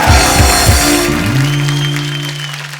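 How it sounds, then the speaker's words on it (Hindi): A studio audience at a Kapil Sharma comedy show claps steadily in a loud, continuous wave of applause that fades slightly toward the end, with musical tones sounding over it. "तो जोरदार तालियां होनी चाहिए यार।"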